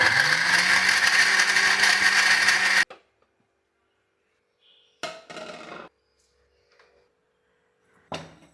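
An electric blender grinds small pieces of tender coconut with water into coconut milk, a loud steady whir that stops abruptly, followed by a few brief knocks and handling sounds.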